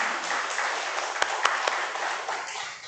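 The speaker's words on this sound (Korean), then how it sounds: "우리로 하여금 예수님을 믿게 해주신 하나님께 감사와 영광의 박수 한번 올려드리도록 하겠습니다." Church congregation applauding at an evangelism seminar, a steady wash of many hands clapping at moderate distance, with a few sharper individual claps standing out midway, sustained throughout.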